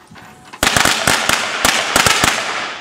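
Firecrackers bursting at a Sant Joan midsummer night festival in El Pla del Penedès, a quiet lead-in followed by a rapid, irregular string of loud, sharp cracks close by, with no talk over them.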